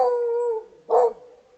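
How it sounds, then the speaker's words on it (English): A pet dog howls in two bursts, a long sustained wavering howl followed after a short pause by a shorter, louder one, close and clear with no talk over it. "My dog saw a squirrel."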